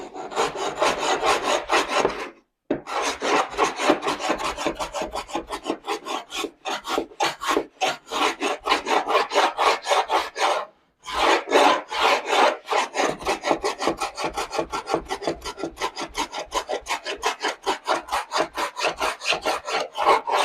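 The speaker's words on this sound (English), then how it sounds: "we just correct it by just block planing it" A block plane shaves along a laminate countertop joint in steady, rapid rasping strokes, loud and close, with two brief pauses between runs of planing.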